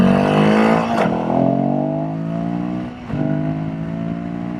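A Royal Enfield Himalayan 452 motorcycle accelerates hard along a road, the engine note climbing steadily through two gear changes. The sound is loud and close, with wind noise and no talking.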